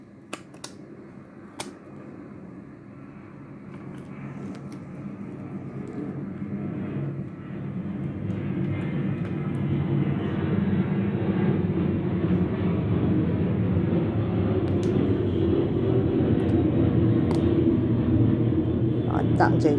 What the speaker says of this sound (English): Really sorry about the planes